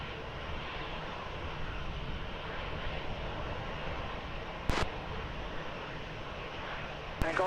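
Steady broadband roar of a jet airliner on the runway at Lisbon Airport, holding a constant level throughout with two brief sharp clicks near the end and no talk.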